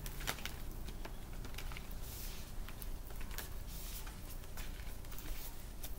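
Tarot-style cards being shuffled for a reading, a quiet run of soft riffling taps and slides close by, faint over a steady low hum with no talking.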